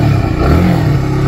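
A carburetted motorcycle engine, not yet choked or warmed up, idles loudly and steadily up close on a morning start, a rough continuous rumble with slight fluctuations in pitch.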